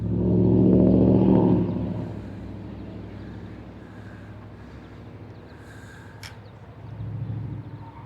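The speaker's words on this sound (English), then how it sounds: "We're gonna wait for this car to go by." A car drives past on a road beside a spot where an RC vehicle is being run, loudest at the start as it passes close, then fading into a low rumble and wind, with a second swell near the end.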